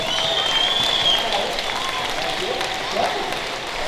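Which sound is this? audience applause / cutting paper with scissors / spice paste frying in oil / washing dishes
audience applause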